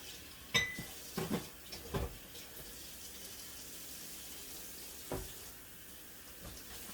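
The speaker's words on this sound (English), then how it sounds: "Let's get these dishes done real quick." Dishes being washed at a kitchen sink, with faint running water and a few sharp clinks and clatters of plates and cutlery close by in a quiet room, no one talking.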